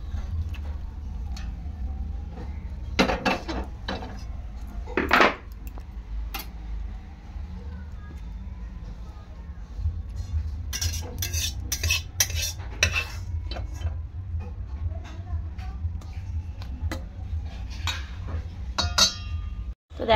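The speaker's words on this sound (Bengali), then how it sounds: "চলো মাছের ঝালটা আমি ঢেলে নেব" Metal utensils clink and scrape against a pot while Pabda fish curry is poured and served, scattered close chinks and a couple of louder knocks over a steady low hum.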